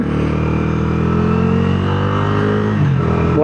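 A Bajaj Dominar 350 motorcycle engine revs with a loud, steady, close-up drone, its pitch holding nearly constant and then shifting slightly near the end, with no voices over it.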